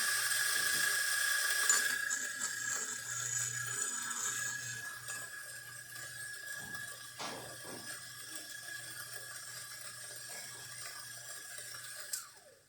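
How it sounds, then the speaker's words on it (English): A Mazzer Luigi coffee grinder runs on a small amount of beans, a steady mechanical whir with a faint hum beneath, tapering off and ending with a small clack. "I'm just going to show you by grinding a bit of coffee"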